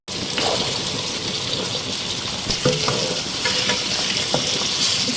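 Boiled white chickpeas stirred into hot sizzling masala in a pan, a steady close frying hiss with scraping stirs, no voices.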